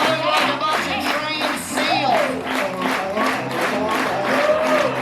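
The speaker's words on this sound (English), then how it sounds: "Let me see if you can clap." An audience at a musical dinner-show revue claps along with a song, rhythmic hand claps under singing and music, with crowd voices mixed in throughout.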